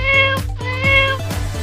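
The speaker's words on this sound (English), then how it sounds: "cat." A cat meows twice, clear and close, each call drawn out and tonal, with no other sound around it.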